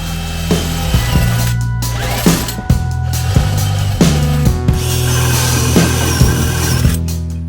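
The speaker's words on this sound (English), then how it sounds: "I needed to drill some holes in my desk." Power drill boring holes into a desk aboard a boat, a loud steady motor whine with low hum, broken by several sharp knocks and clunks as the bit bites, close up with no talking.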